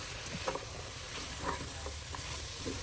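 Flour being stirred into a chicken dumpling mixture in a pot, a soft scraping and sizzling texture with a few light spoon knocks, steady and close, no talking.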